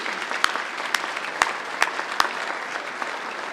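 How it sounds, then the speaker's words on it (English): An audience at a city's State of the City address in Pleasanton, California claps in a steady, moderate round of applause. A few sharp, louder claps stand out near the microphone. "I'm going to give a big round of applause."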